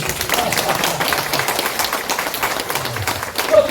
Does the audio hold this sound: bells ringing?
no